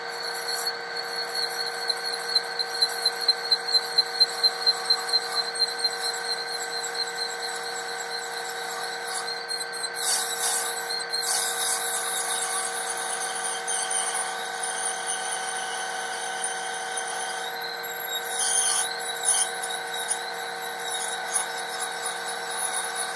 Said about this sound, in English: And just start drilling.